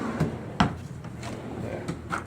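Large, deep wooden drawers in a home woodshop slide open and shut, giving a few separate knocks and thuds with soft sliding noise between them, close by and with no talk.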